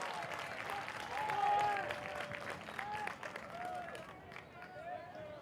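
A baseball crowd at Don Sanders Stadium gives a faint, distant wash of murmur and scattered clapping, with a thin whistle and other background sounds drifting above it.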